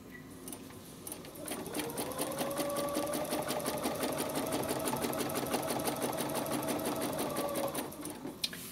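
Sewing machine stitching along a marked line on a spider web project, a steady fast needle chatter that starts around the second mark and runs evenly for several seconds before stopping, close and alone with a faint hum beneath.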